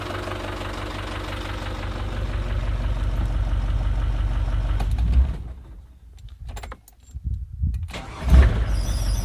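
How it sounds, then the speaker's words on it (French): A Ford Transit van engine runs steadily with a low rumble and a faint whirring belt noise, briefly dropping off before revving back up. "il y a un petit bruit de courroie qui est à attendre"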